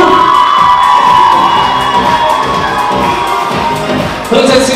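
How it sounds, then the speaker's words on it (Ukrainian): A pageant audience gives a contestant a loud, sustained ovation, a dense roar of clapping mixed with cheers, whoops and high excited shouts, close and continuous, with a faint voice and music tone threading through. "Вітайте вашими оваціями учасниця номер Світлана Бетина"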